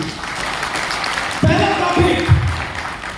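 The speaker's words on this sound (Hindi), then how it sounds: "एक जोरदार तालियां होनी चाहिए" A crowd at an AWPL business plan presentation breaks into dense, continuous applause. A voice comes in partway through and continues over the clapping.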